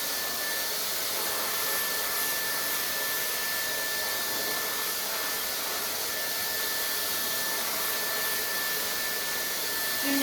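A hair dryer blows steadily while hair is being dried smooth with a round brush, a constant broadband airy roar at close range with no talk.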